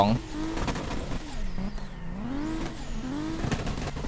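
A Nissan Skyline R32 in a drifting video game: the engine note climbs and falls in pitch with revving and shifts, a steady droning whine under someone talking over it.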